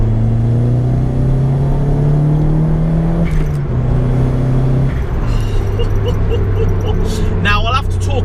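A warm Toyota Glanza V turbo car pulls in third gear with a steady, close engine drone and rising rumble, a gear change audible partway through, with faint road noise throughout.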